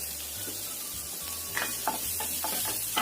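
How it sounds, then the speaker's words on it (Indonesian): Chopped garlic sautéing in hot oil, a soft steady sizzle with light stirring scrapes and ticks near the close, set over a low background hum. "Kemudian kita masukkan bawang putih cincangnya. Tumis sampai tercium bau enak."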